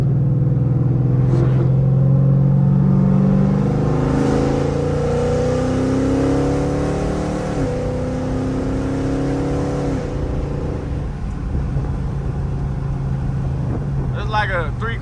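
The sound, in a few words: 2015 Chrysler 300 Hemi with BBK long tube headers accelerating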